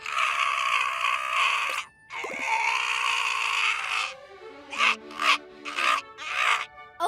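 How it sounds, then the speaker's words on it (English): A llama gives its alarm call: harsh, rasping, braying bursts, first two long ones and then several shorter repeated pulses, loud and close, with nobody talking. "Although both llamas and alpacas have a similar alarm call when they sense danger."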